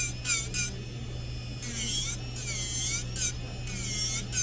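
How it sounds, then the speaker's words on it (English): A high-pitched electric nail drill whines steadily, thinning down an acrylic nail, its pitch wavering as it grinds in short passes with brief pauses, close up over a low steady hum. "Okay, just drill it very thin."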